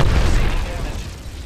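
Grenade explosion in the game Apex Legends, a loud, close boom whose low rumble decays over about a second, with voices talking over it.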